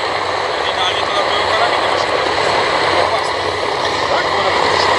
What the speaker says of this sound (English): The Goodyear FG-1D Corsair leading the Curtiss P-40F Warhawk